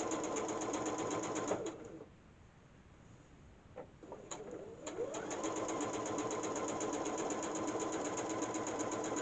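A sewing machine stitching quilt block fabric, with a steady close mechanical whir that stops for a couple of seconds, a few faint clicks, then resumes running evenly.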